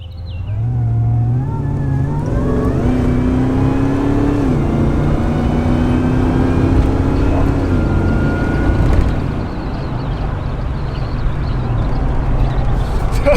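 A Land Rover Defender 110 built by Himalaya drives along with its engine revving loudly and steadily, the pitch rising and falling through gear changes in a continuous near roar.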